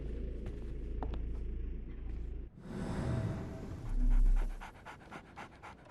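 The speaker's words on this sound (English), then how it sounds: "So, Barnes has a dog now." A dog pants in rapid rhythmic breaths in the Sherlock Holmes The Awakened video game, first alone, then under a deep rumbling boom and a swelling low tone from the game.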